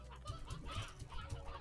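Chickens clucking in the video game Slime Rancher, a quick string of soft, close clucks and low bursts repeating over about a second and a half against faint background sound.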